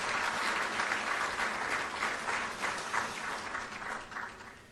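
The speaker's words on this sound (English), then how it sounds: "Another round of applause, please." A crowd applauds steadily at a Chief Justice swearing-in ceremony at Jubilee House, a dense patter of many hands clapping that tapers slightly toward the end, heard from a moderate distance.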